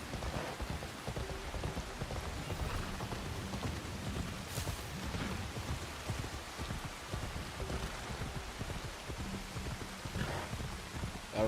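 Steady rain falls in the game Assassin's Creed Shadows, a constant close hiss of drops on surfaces with a few heavier patters, and no talking over it.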